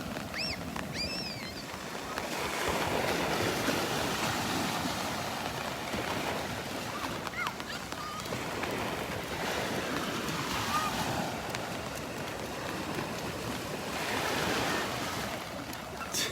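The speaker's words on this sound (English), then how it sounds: "These are real small waves." Small ocean waves wash onto a beach in North Naples, Florida, ahead of Tropical Storm Elsa. The surf is a continuous, moderate hiss and rumble with gentle swells, and wind noise rubs across the microphone.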